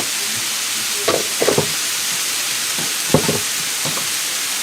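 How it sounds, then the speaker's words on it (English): Light soy sauce, about a tablespoon, hits stir-fried noodles in a hot pan, giving a steady sizzling hiss broken by a few brief louder bursts of tossing and stirring, close and without talk. "So now I'm going to put a little bit of light soy sauce."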